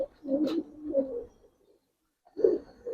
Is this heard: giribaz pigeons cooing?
yes